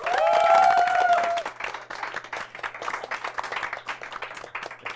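A talk-show audience breaks into steady applause for a guest, dense clapping that carries on throughout, starting loud and easing slightly as a voice speaks briefly in Korean at the start.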